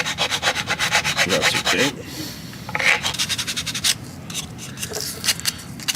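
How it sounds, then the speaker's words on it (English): Sandpaper on a board rubbing a wheel well grafted into a 1955 Nomad sedan scale model car, giving steady rapid back-and-forth scratchy strokes, close up, with a voice speaking briefly over it. "Sand the wheel well a little bit."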